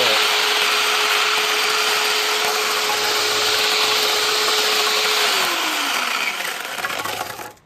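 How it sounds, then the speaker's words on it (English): Loud, steady buzzing of a chainsaw cutting wood, holding a constant high whine before the pitch drops and the motor winds down at the end. "Chainsaw doesn't want to cut flat like that"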